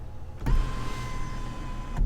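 A small electric motor hums steadily for about a second and a half after a soft click, ending with another click, as the large sunroof of a 2021 RAM 1500 Night Edition pickup slides open.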